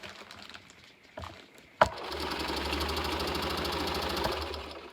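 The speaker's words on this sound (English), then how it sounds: "And then I can just straight stitch right along the edge." A sewing machine straight-stitching along the edge of a unicorn dress accessory: after a few soft handling knocks and a sharp click, a steady, close, fast mechanical whirr with a rapid stitch rhythm runs on continuously to the end.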